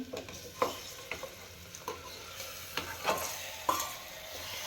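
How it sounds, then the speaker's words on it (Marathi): Marinated mutton sautéing with fried onions for a spicy mutton rassa gives a steady sizzle, broken by a few scraping stirs of the spoon against the pan. "त्याच्यामध्ये आपण हे मॅरिनेट केलेले मटण टाकून घेऊ"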